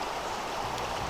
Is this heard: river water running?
yes